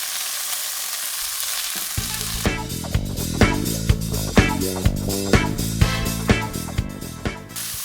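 A second batch of chicken for a mango chicken Thai curry starts frying in a pan. A near-silent opening gives way to a loud, bright sizzle, struck by regular sharp clanks of a utensil against the pan.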